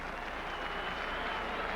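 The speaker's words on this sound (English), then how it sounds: "Fans applauding for the strikeout." Baseball crowd at a 1991 Blue Jays–Yankees game applauding a strikeout, a steady wash of distant clapping and crowd noise with no break.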